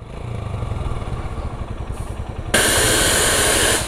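A Royal Enfield Himalayan motorcycle engine idles with a loud, low, rapid thumping pulse, then a sudden broad hissing rush cuts in over it and holds steady to the end.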